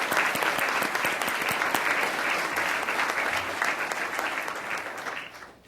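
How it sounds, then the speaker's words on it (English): An audience at a formal school board meeting applauds music directors for their work with students, a dense, steady patter of many hands clapping that holds loud and even before tapering off near the end. "Would you please give them a round of applause for the fine work they've done with these students?"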